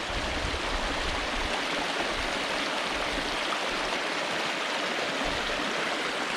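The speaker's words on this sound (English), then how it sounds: "Nice flow on the river here." A river flows beside a small woodland camping spot in the Peak District, its close, steady rushing and gurgling water filling the whole stretch without a break.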